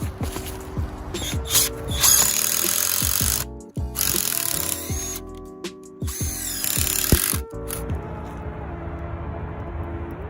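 A Bauer impact driver drives screws into wood in repeated bursts, a loud, rapid ratcheting hammer that stops briefly between screws and then starts again, with no voices.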